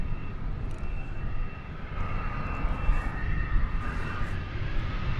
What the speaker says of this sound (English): you can also see that planes are taking off just as soon as one gets off the ground